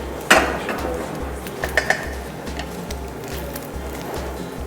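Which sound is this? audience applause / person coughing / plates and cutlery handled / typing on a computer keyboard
plates and cutlery handled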